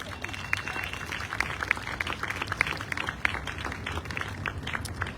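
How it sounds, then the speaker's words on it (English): Audience applause at an outdoor Hiroshima and Nagasaki memorial gathering, a steady patter of many hands clapping at moderate distance for several seconds, with a few sharper claps standing out. "One more round of applause"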